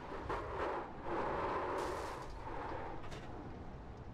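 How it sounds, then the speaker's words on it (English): A race car's engine detonating during a K&N All Star online sim race: a sustained rough, roaring blast with crackling bursts and rumble that holds loud for several seconds. "You see the motor detonated definitely on that 81."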